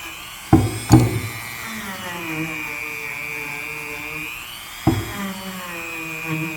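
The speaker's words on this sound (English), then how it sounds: "I'm just going to go and polish these areas with the Dremel tool" A Dremel rotary tool fitted with a wire wheel polishes the metal of a man-lift steer cylinder, giving a steady high whine with a few sharp bursts of contact grinding, close and loud.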